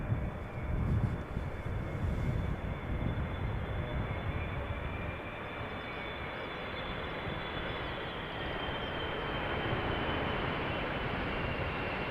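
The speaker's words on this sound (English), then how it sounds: "So there was another airplane in the background just now, Transavia" A Transavia passenger jet passing at Schiphol Airport, a steady broad engine roar that stays loud and even throughout, slightly fuller at the start, with no voices over it.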